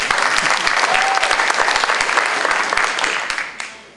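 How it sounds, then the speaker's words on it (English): Applause from a crowded audience at a federation membership meeting, a dense steady patter of many hands lasting several seconds before trailing off at the end. "she can have applause."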